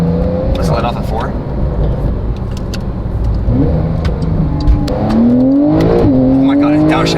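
A Dodge Ram TRX pickup accelerates hard under manual gear shifts, its engine roaring loud and close with rising pitch sweeps between shifts and burbling off-throttle, while people talk over it.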